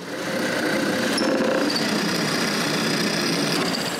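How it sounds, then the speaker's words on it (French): Power drill boring marked holes through walnut and oak pieces, a steady continuous whine and grinding hum lasting the whole stretch at close range. "Mais maintenant, je dois percer les trous que j'ai marqués."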